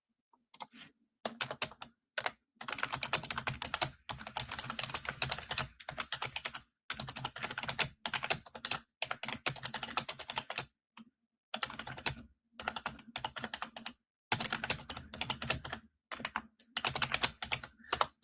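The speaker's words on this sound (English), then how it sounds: "My ability to type and talk is pretty much non-existent," Close, steady typing on a computer keyboard: bursts of rapid key clicks separated by short silent pauses, heard alone with no talking.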